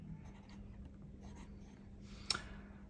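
A solid gold #8 fountain pen nib moves across paper in a short, faint scratch of writing strokes, ending in a small sharp tap near the end, with no talking.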